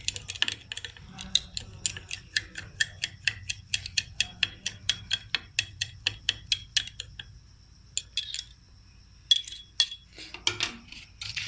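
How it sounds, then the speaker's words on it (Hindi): A metal spoon stirring sugar into cake batter in a bowl, making a long series of quick, regular clinks and taps against the side, then a short pause and a few more scattered knocks. "साथ ही इसमें डाल देंगे चीनी और इसको भी अच्छी तरह मिक्स कर लेंगे।"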